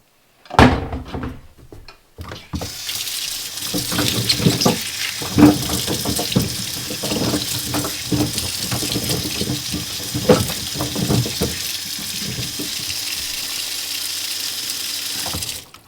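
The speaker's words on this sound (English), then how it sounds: "we're going to give them a thorough rinsing here at the house" Leeks being rinsed under a running kitchen tap in a house, close and fairly loud: water splashes and gushes unevenly over them after a sharp knock at the start, and rustling handling noises continue throughout without speech.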